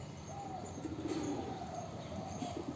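A gray and black Dobaaz pigeon gives soft low coos, faint and close amid steady background noise.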